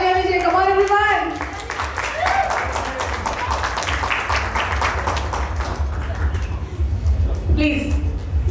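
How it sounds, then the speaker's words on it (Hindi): At a company anniversary celebration, an audience gives a burst of clapping for the winning couple. It rises after a short spoken line, stays dense for a few seconds, then thins out under a low hum. "जोरदार तालियां दीजिए"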